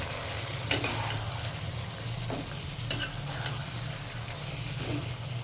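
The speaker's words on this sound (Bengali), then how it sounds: "এখন এই মাছগুলোকে দিয়ে একটু ভালো করে কষাবো" Fish frying and being stirred in a spiced masala gives a steady, moderately quiet sizzle, broken by a few sharp scrapes of the spatula against the pan.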